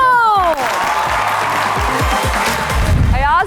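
Studio audience clapping and cheering as a guest, actor Ayaz Samoo, enters a talk show set, a dense burst under loud swooping music stings and whooshes at the start and end.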